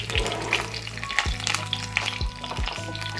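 Curry leaves spluttering in hot oil, a dense crackling sizzle with repeated popping bursts and a few spoon knocks, close and continuous, with no one speaking.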